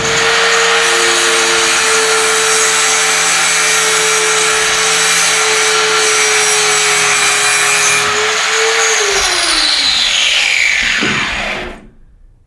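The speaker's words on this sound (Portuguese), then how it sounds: "Isso que eu estou fazendo aqui, limpando essa peça" A metal workpiece being cleaned ahead of submerged arc welding, with a loud continuous grinding or rubbing drone that holds steady for several seconds, then winds down in pitch and cuts off.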